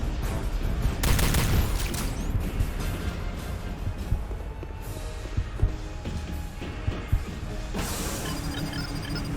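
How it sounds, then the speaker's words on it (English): An enhanced compression rifle fires repeatedly in Star Trek: Elite Force II, dense loud bursts of energy shots and impacts layered over continuous game noise, with a sharp swell near the start and another near the end. "this is the enhanced compression rifle"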